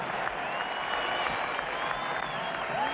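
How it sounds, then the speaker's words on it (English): Sellout arena crowd at a Lakers basketball game, a steady wash of cheering and applause at moderate, distant level throughout, with a faint whistle and no clear talk above it. "The sellout crowd urges the Lakers to get back in the hunt."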